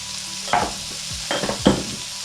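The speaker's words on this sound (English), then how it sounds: "I'm gonna add just a little bit more oil. And we are going to add the leek" Leek dropped into hot oil in a pan with some leftover sausage grease, a soft sizzle under a few stirring scrapes and clinks, close and fairly quiet.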